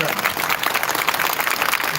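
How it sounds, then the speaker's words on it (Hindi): Audience at a coaching centre award ceremony breaking into loud, dense applause, continuous clapping throughout. "एक बार जोरदार ताली से"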